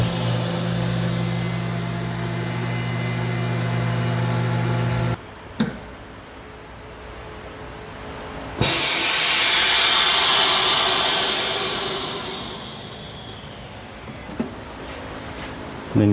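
A TC 350 FLR tabletop vacuum chamber packaging machine runs with a steady low pump drone, then a click, a brief pause and a loud rushing hiss of air returning that fades slowly, followed by quieter mechanical clicks.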